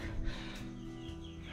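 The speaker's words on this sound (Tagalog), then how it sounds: "So, pasensya na sa ingay ng mga manok." Chickens cluck softly in a short burst, fairly close and steady against a low background hum.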